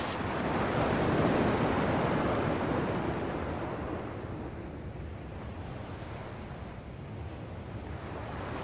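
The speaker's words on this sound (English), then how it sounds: "At least the waves sound the same." Ocean waves from the video game Kingdom Hearts 2 wash in as a steady, full surf roar that swells early and then settles, with no voices.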